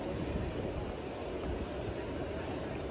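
A train passes through a noisy railway station in a continuous, loud, broadband rumble with a windy roar that holds steady throughout.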